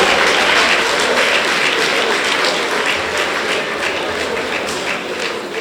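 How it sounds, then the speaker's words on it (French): Dense, loud applause from an audience at a speech event carries on steadily, a thick wash of many hands clapping that fades slightly toward the end. "Encore des applaudissements pour elle."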